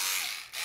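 Rechargeable portable electric fabric shears cutting very thick denim, a brief whirring motor buzz with a slight dip and recovery partway through, close and alone.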